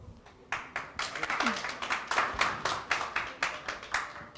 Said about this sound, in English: So please give a round of applause to Eric.